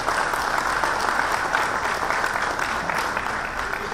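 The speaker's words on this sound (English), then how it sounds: "So a big round of applause to the two of them" An audience at a corporate medical scribe week event claps steadily and loudly, a dense continuous wash of applause with no break.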